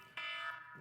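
A faint electronic buzzer tone sounds once, a short steady electronic note signalling time is up in a large building, heard alone at low volume.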